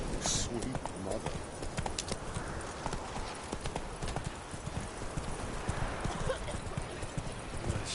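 Horse hooves clip-clop steadily and close at a trotting pace while a rider travels in Witcher 3, with a voice talking over the rhythmic hoofbeats and an occasional faint whinny.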